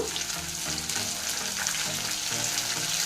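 Curry leaves and mint sizzling in hot oil in a pan, a close, steady crackling fry with faint stirring scrapes running throughout.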